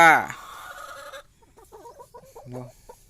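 Egg-laying hens on a small farm cluck in short, irregular bursts after a brief louder squawk at the start. The calls are close and moderately loud against a quiet background.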